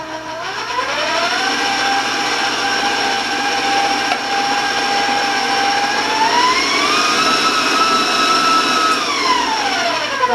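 An electric mixer beats rum extract into cake batter, whirring loud and steady throughout, its pitch rising partway through and later dropping back down.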